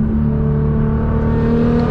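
A Nissan GT-R accelerates with its exhaust and turbos working, producing a loud, close, steady engine drone with strong tonal exhaust hum over a short stretch and no talking.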